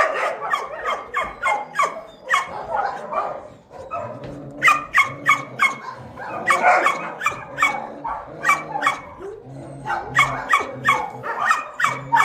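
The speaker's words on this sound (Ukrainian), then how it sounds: "Какой же ты красивый пес, Аман." Aman, a handsome dog at a shelter, barks over and over in loud, fast bursts, some overlapping, with yips and whimpers mixed in, close by in a small echoing room.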